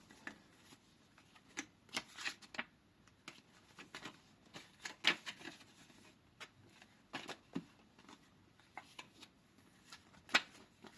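Double-sided collectible film cards handled up close, light scattered clicks, taps and papery rustles at low volume, with sparse quiet pauses between.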